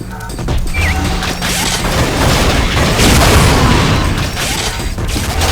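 Rocket explosions in Unreal multiplayer on the DmMorbias map, a rocket arena: a loud, continuous clatter of blasts and crashing impacts that runs without a break, with no talking.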